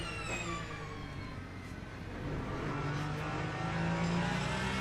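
Hypercar engine in the racing game Le Mans Ultimate, a steady droning engine note with rising harmonic whine as it accelerates, fairly faint but continuous, with other cars' engines blending underneath.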